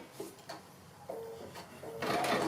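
Sewing machine stitching felted wool appliqué, a steady close mechanical whir with short pauses and restarts, the motor rising louder near the end.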